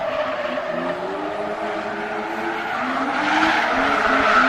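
A drift race car at a grassroots competition slides through a zone close to the tire wall, its engine note rising and falling in strained sweeps over a constant tire-squealing roar that swells toward the end.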